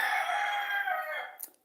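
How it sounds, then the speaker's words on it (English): A rooster crows once in a long, drawn-out call that fades near the end, fairly close and loud, with no talking. "sorry about my rooster in the back"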